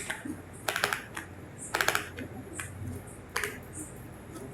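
Code is typed on a computer keyboard in short irregular clusters of crisp keystrokes with pauses between them, close up over faint background noise.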